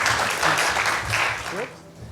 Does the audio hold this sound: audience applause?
yes